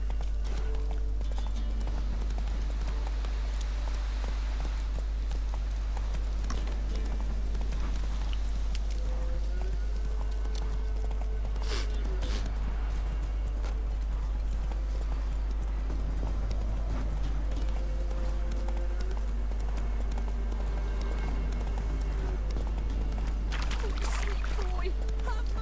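Horse hooves clip-clopping at a gallop in the video game The Witcher 3: Wild Hunt, a steady rhythmic beat under game music and ambience, with character voices talking over parts of it.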